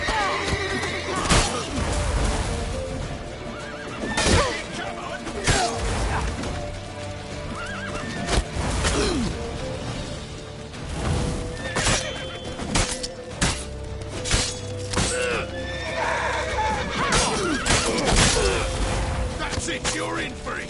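A horse neighs and whinnies repeatedly over steady clip-clopping hooves in Witcher 3, with crashes and clatter around it in a busy, loud scene.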